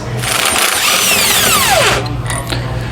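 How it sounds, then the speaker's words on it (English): A power tool spins off U-bolt nuts with a 1 1/8 socket on a 2020 Ford F-53 chassis, a loud, steady mechanical whir lasting about two seconds with a falling pitch sweep as it winds down. "We're going to use a 1 1/8 socket to remove the hardware."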